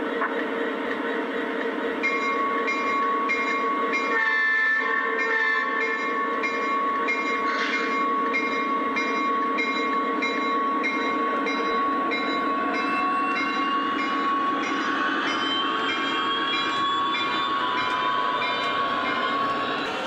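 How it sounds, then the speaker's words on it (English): A Lionel Legacy SD80 Mac O gauge model locomotive runs steadily along its layout, a continuous motor hum and rolling rumble with tonal whines, close and sustained throughout. "So here I am enjoying my new Lionel Legacy SD80 Mac."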